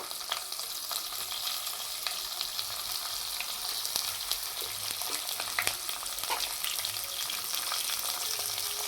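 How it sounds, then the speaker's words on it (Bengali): Green chillies fry in hot oil in a wok with whole spices, cardamom, cloves, cinnamon and cumin, giving a steady close sizzle dotted with crackling spits and pops, with no voices. "এবার কড়াতে কাঁচা লঙ্কা দিয়ে দেবো"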